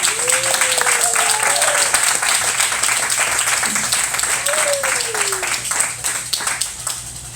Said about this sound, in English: Let's all have a round of applause for this lovely lady.